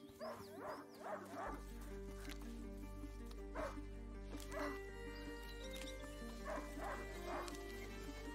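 A hunting dog in the video game A Plague Tale: Innocence barks repeatedly in short, yipping bursts, fairly distant and quiet over a low steady ambient hum.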